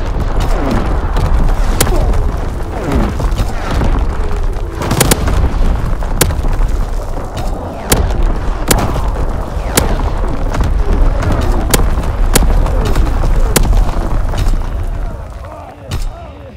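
Artillery strike explosions in the Call of Duty video game, a rapid barrage of sharp booms and bursts landing one after another over a continuous rumbling roar, loud and dense throughout.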